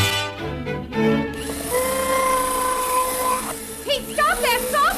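An electric drill whines steadily at a home renovation job, a loud sustained motor tone running for several seconds before a whistling, wavering sound takes over near the end.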